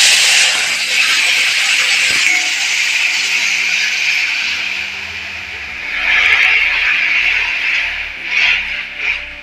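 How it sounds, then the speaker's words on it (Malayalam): Tamarind water poured into a hot pan for pappadam curry, a loud steady sizzle and hiss that swells again in bursts as the liquid hits the heat, with a voice speaking faintly underneath. "ഇതിലേക്ക് നമുക്ക് ഇനിയിപ്പോൾ പുളിവെള്ളമാണ് ഒഴിച്ചു കൊടുക്കുന്നത്"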